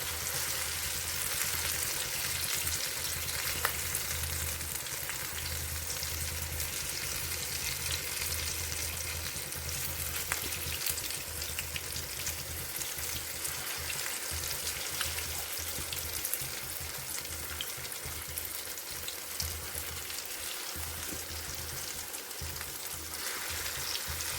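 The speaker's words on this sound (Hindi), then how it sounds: "इसी तरह से उलट पुलट करके हम इसको भी ब्राउन होने तक के फ्राई कर लेंगे" Arbi leaf pakoras fry in hot oil until brown, giving a loud, continuous close-up sizzle and bubbling with occasional stirring throughout and no talk.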